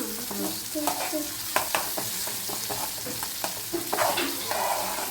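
Onions for an egg gravy sauté in a pan while a spoon stirs them briskly, producing repeated close scraping strokes over a continuous frying sizzle.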